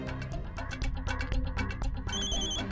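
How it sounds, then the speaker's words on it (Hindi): A telephone rings with a repeating electronic ringtone in a police-station comedy scene, with bright melodic tones pulsing in a quick rhythm at moderate volume and no talk over it. "फोन आया। फोन किसका फोन है? जल्दी उठाओ, जल्दी उठाओ फोन।"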